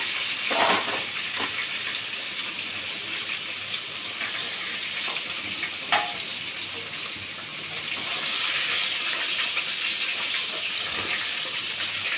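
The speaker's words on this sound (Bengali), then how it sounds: "একটু একটু হালকা ভাজা ভাজা হয়ে গেলে এটা আমি তুলে দেব আলুগুলো আমি তুলে নিচ্ছি" Potatoes fry in a pan for a mutton biryani, giving a steady broadband sizzle with a few brief clinks and stirs, loud and continuous throughout.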